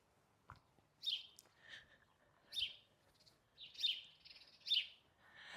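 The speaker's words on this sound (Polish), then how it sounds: "Nie wiem, czy słyszycie te ptaki." Faint birds chirp in short bursts every second or so in a garden in April, distant and outdoors, with quiet background between calls.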